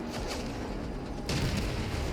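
Dense bursts of video game gunfire and booming explosions in a D-Day beach invasion game rumble continuously, loud and close, with a sharper volley partway through.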